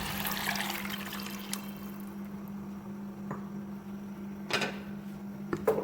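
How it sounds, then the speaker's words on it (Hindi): A cup of water poured into a pan of fried peas for a peas and meat curry, giving a brief splash and hiss that settles into quiet bubbling and faint sizzling over a steady low hum. "अब हम इसमें पानी ऐड करेंगे। 1 प्याली भरकर पानी ऐड करेंगे।"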